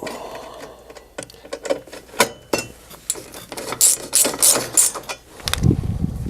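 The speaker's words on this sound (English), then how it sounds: "we're going to reinstall the 5/16 inch screws into the bracket" A ratchet drives 5/16 inch screws into a blower bracket on its housing, giving close, loud bursts of rapid clicking with pauses and a few metallic clinks between strokes.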